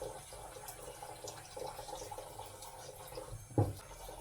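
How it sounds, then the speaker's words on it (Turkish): Homemade sauce poured over meatballs in a kitchen, a soft continuous liquid pouring wash that stays faint and steady, ending with a brief louder splash or clatter near the end. "Köftemin üzerine dökeceğim."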